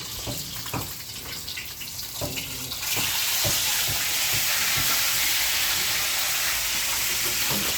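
Food sizzling and frying in hot cooking oil in a home kitchen, a steady loud hiss that swells after the first few seconds, with clatter of utensils.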